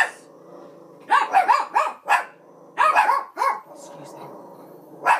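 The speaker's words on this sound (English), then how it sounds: "That's my dog." A dog barks in quick bursts nearby after a doorbell rings, several sharp barks in a row, with a person briefly speaking in between.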